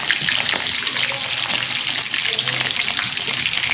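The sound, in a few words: meat frying in oil with cardamom, clove, pepper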